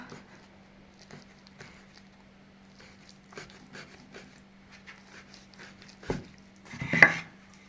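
Knife slicing through paska dough on a board in a home kitchen, a series of soft, faint taps and cuts at an irregular pace, ending in a couple of louder knocks.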